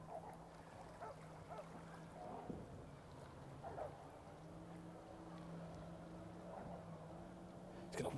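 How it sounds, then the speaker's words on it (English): A motorboat on the water on a sunny Sussex morning, its engine a steady, moderately loud drone with a low tone and a rising second pitch as it approaches, amid light outdoor ambience. "Oh, here comes the noisy boat."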